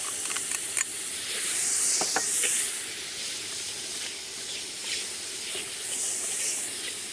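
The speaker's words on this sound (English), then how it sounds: "Then we'll add some finely chopped onions. Then chopped chilies, green chilies, some garlic and ginger paste" Finely chopped onions, green chilies, and garlic and ginger paste sizzle in a hot pan, a steady hissing spray with a few sharp crackles and swells, heard close up with no talking.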